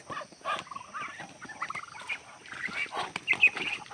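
Pet ducks calling in the morning, a busy run of overlapping quacks and squawks at close range with no talking over them.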